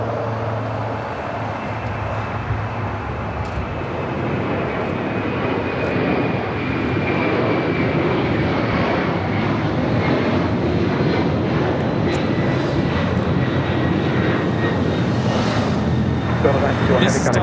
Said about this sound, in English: Delta Airlines 951 taking off to JFK on the 767-300ER